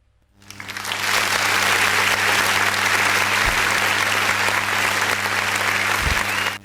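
Audience applause at a Sierra Leone political gathering, a dense wash of clapping that swells in quickly and holds loud and steady for several seconds before cutting off, with faint crowd noise beneath.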